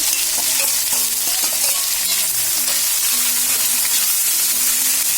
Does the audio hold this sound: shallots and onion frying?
yes